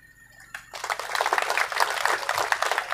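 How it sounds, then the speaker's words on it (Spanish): An outdoor crowd at a municipal handover event in Chimoré, Bolivia breaks into applause for the mayor, starting after a brief pause and continuing as sustained, dense clapping. "Un fuerte aplauso a las palabras del alcalde Melquiades Clau."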